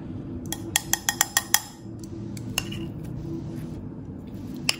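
Metal utensils clink sharply against a pot or bowl as fried potatoes go into soto Betawi, with a quick burst of clinks followed by a few scattered taps over a low steady background hum.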